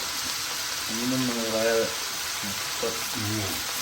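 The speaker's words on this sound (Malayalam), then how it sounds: "നമുക്ക് കുറച്ച് വൈറ്റ് വൈനും കൂടെ ഒഴിച്ചു കൊടുക്കും" White wine poured into a hot pan used for cooking steak sets off a steady, loud sizzle that continues under someone talking.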